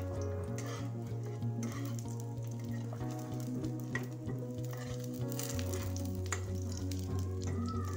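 Eggs fry in a pan over a low flame for a Bengali egg snack, giving a steady, close, continuous sizzle and crackle with no talking.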